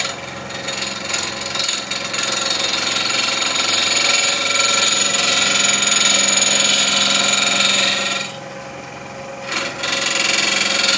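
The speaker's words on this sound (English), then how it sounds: "3/8 bowl gouge, just skimming that outside edge." A 3/8 bowl gouge skims the outside edge of a resin and wood bowl spinning on a lathe at about 1300 rpm, a steady loud rasping hiss that briefly drops away near the end before resuming.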